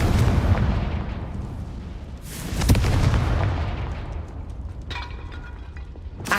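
A Confringo fire spell bursts in the Hogwarts Legacy video game: a loud booming explosion with rumbling low-end blasts, a sharp peak near the middle, then a trailing crackle and a smaller burst at the end.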